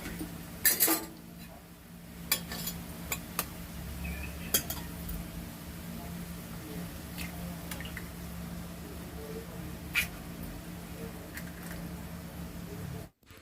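Utensil clinks and scrapes in a pan of oil and onion as eggs are cracked in, with light sizzling and scattered sharp taps spread through the stretch.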